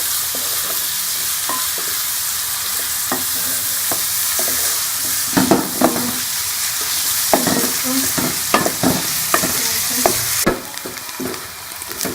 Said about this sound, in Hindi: अब इसके अंदर मैं प्याज डाल दूंगी।